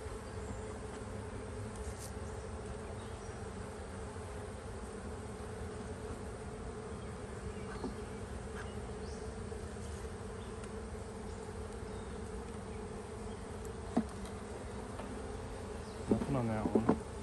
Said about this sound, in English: Bunch of bees down there. They're all alive.